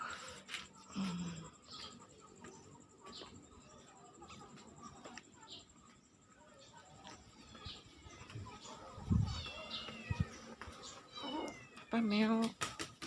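A cat meows faintly a few times outdoors in a pine forest during planting of caladium tubers, the short cries scattered under quiet talking and rustling.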